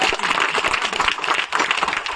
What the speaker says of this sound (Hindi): गुड, तालियां बड़को इनके लिए।